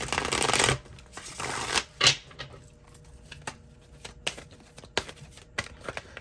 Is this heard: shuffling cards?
yes